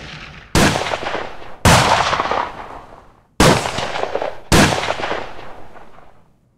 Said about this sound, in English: What's he shooting now?